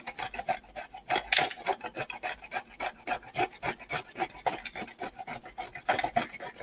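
Carrots rasp against a broken cheese grater in rapid, rhythmic back-and-forth strokes, fairly quiet and close, with no one speaking.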